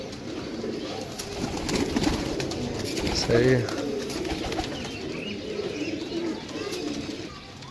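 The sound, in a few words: desi pigeons cooing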